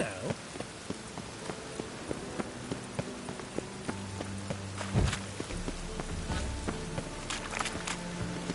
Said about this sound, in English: It's raining, of course